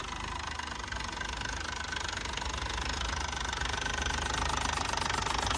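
A Yuchai 260 diesel engine, 191 kW, running steadily with an even mechanical hum and a faint rhythmic knock, constant and close without pauses.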